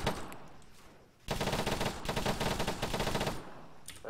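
Minigun fire in the military video game Arma 3: after a quiet second, a loud, continuous rapid-fire burst roars for about two seconds and then cuts off, followed by a brief faint tail.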